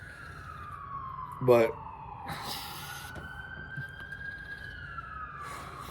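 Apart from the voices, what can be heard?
ambulance siren passing by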